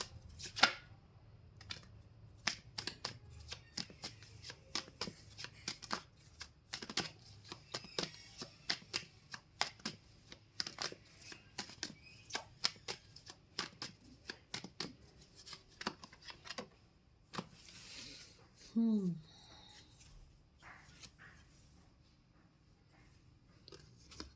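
Tarot cards shuffled and drawn by hand: a long run of crisp, close riffling flicks and snaps in irregular bursts, with a brief soft rustle near the end.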